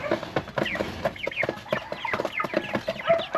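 Several chickens cluck nearby in a busy, overlapping chatter of short clucks and squawks, steady throughout with no talking.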